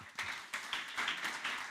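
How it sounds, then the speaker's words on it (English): Scattered clapping from a small press conference audience comes as a short, fairly quiet round of applause, steady and light with no voices. "a round of applause for Stefan is due"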